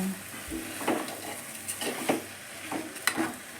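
Rice being stirred with masala in a pot while cooking vegetable pulao, a steady scraping of the spoon broken by several sharper clinks against the metal over a faint sizzle, with no talking.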